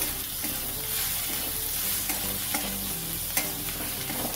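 Spices such as turmeric and Kashmiri red chilli powder stirred into kochur loti (taro stolons) frying in a pan, with steady sizzling and scraping spoon strokes throughout, close and alone.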